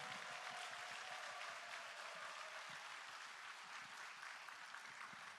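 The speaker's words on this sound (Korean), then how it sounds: "힘찬 박수를 보내주시기 바랍니다" Dense, distant-sounding applause from a political party rally crowd for regional election candidates in Busan, Ulsan and Gyeongnam, a continuous faint wash of clapping with no voices.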